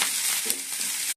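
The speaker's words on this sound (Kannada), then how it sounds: "ಇವಾಗ ಒಗ್ಗರಣೆ ಫ್ರೈ ಆಗಿದೆ." Tempering spices with green chillies sizzling and frying in hot oil in a pan for an okra and cluster bean stir-fry, a steady close crackle with a brief stir midway, no talking.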